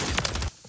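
A Combat Scout gun hip-fired in a shooter game lets off a quick, close burst of several rapid shots that cuts off abruptly into near silence.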